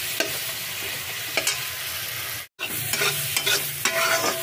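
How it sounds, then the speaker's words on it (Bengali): Masala for katla muri ghonto, worked with small splashes of water, sizzles steadily in a pan while being stirred with scraping knocks. A short dropout interrupts the sizzle partway through, and the frying sounds near and continuous without speech. "অল্প একটু জল দিয়ে দিয়ে আপনি মশলাটাকে কষবেন"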